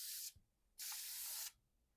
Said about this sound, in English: I'm just going to spray vertically.